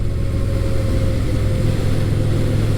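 Low, steady V-twin engine rumble from an adventure motorcycle cruising at low RPM, loud and continuous with no pauses.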